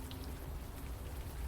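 Steady, soft rain patters in the video game Unavowed, a continuous even hiss with no voices over it.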